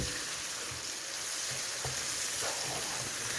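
Onions sizzle steadily in a hot pan with whole spices, a dense crackling hiss with occasional soft scrapes of stirring, fairly quiet and close.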